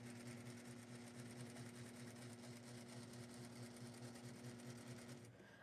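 A sewing machine runs steadily, stitching a hem with a rapid, even mechanical whir and rhythmic clatter before stopping near the end; faint and close.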